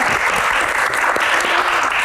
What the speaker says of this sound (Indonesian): tepuk tangannya, lebih seru lagi dong